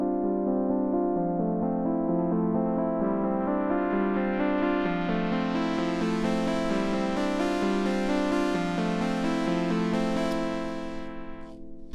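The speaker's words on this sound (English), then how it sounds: "I used the Nitro effect to do a filter sweep to lead in" A bright synthesizer chord progression from a Teenage Engineering OP-1 swells as a filter gradually opens, adding more and more brightness before fading near the end; no voices.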